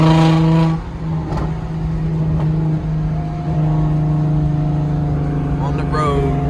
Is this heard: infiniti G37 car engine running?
yes